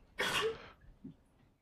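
A single loud sneeze bursts out in a lecture hall during a physics class, followed by a faint short sound afterward, with the room otherwise quiet.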